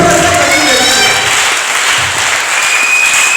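Loud, sustained applause from a church congregation during a sermon, a dense wash of clapping with crowd voices mixed in throughout.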